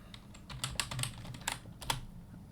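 Computer keyboard keys tapped in a quick irregular run while a password is entered, crisp close clicks with a few louder strokes over a low room hum.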